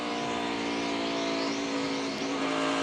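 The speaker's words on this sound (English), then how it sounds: "Look at that car digging on the bottom." Loud, continuous roar of NASCAR Cup Series stock cars at Dover International Speedway, a sustained high-pitched engine drone with a pack sweeping past and shifting pitch, no voices over it.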